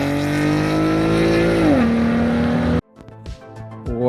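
A 360hp daily-driver car with an ARK exhaust drives through snow, its engine loud and steady, the pitch falling as it eases off, then cutting abruptly to quieter, uneven engine and road sounds.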